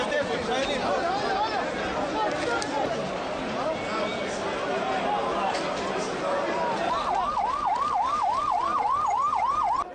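Ambulance sirens wailing at the scene of a deadly stampede in northern Israel, one rising and falling siren over crowd chatter and commotion, with a fast yelping siren cutting in near the end.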